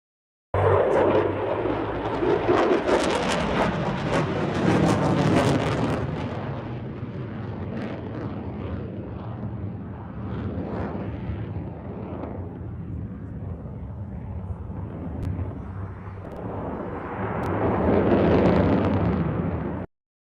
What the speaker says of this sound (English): Dan Scavino posted this shot of an F-22 going over that.